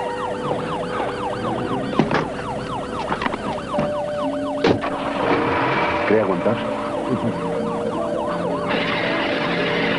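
An ambulance siren wails in rapid, repeating up-and-down sweeps, fairly close and loud, with road traffic and scattered clanks in the background.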